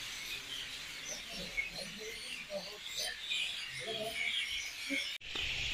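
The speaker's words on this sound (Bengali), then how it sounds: "এখন পাখির আওয়াজ শোনো এখানে, পাখি দেখো ওপরে তারে বসে আছে" Small birds call at night from their perch on overhead wires, a dense stream of faint chirps and squeaks over steady background hiss, ending in a brief cut.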